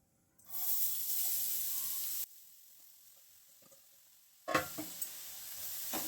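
Grated carrots for gajar halwa hit hot ghee in a pan over a medium flame, giving a bright sizzle that drops to near quiet midway, then flares up again with small pops.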